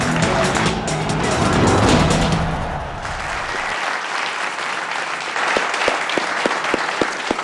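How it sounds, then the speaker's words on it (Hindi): Studio audience clapping during a cricket show break, dense broadband applause that thins out midway, leaving lighter clapping and a few sharp claps near the end. "तालियां बजाओ बड़ा"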